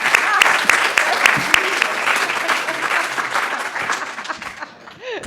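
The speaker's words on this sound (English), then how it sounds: "fabulous applause" Enthusiastic audience applause at a policy forum on the U.S. military, loud sharp clapping from a large crowd with a few distinct claps up front, slowly tapering toward the end, with faint voices and chuckles mixed in.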